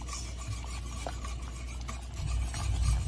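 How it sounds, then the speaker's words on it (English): Grits being whisked in a pot, a soft, steady scraping and swishing stir that turns a little louder and fuller toward the end, with no one talking. "And you have to whisk. That's the secret, guys. Whisk, whisk, whisk."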